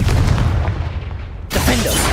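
The Confringo fire spell in Hogwarts Legacy lands as a deep, booming explosion with a short rumbling tail, then a second sharp burst follows.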